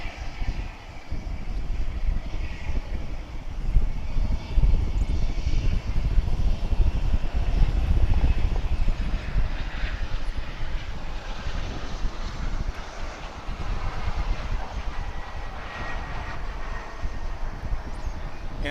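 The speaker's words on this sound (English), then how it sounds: "it looks like we've got American flight 1244" An American Airlines jet airliner departing DFW airport, a broad, continuous rumbling roar that swells and stays loud throughout, with wind buffeting the microphone.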